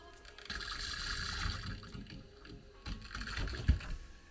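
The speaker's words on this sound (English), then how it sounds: "I'm gonna select cold water and release all the air" Air sputters out of the cold-water pipes of a mountain cabin in Portugal through an open faucet, a continuous hissing, gurgling water rush with irregular spits and a sharp burst at the end.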